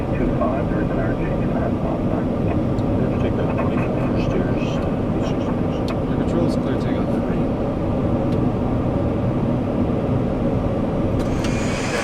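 Boeing 737-400 jet engines spooling up to takeoff thrust, a steady loud broadband roar heard from inside the cockpit with radio and crew voices running over it.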